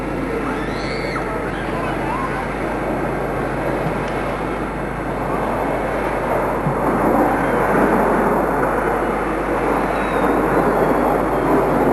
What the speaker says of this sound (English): It's a 2-seat, single-engine jet trainer, designed in Italy.